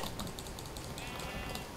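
Sheep in Minecraft give short, soft bleats in a quick repeating pattern over a low, steady background hiss, faint and alone without any speech.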